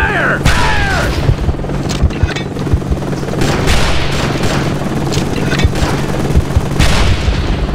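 Gunfire aimed at an enemy helicopter in The Hell in Vietnam, a Vietnam War game: loud, dense bursts of shots and booms keep up a steady barrage, with a rotor drone underneath and sharp cracks repeating throughout.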